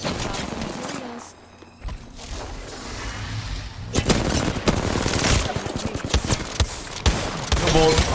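Rapid bursts of gunfire in Apex Legends ring out loud and close, dense automatic fire in fast clusters with a brief lull, and a player's voice is heard now and then.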